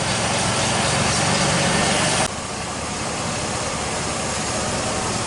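A 2006 Jeep Liberty idles steadily with a suspected transmission pump or torque converter whine, a constant close engine drone that drops slightly in level partway through, with no speech.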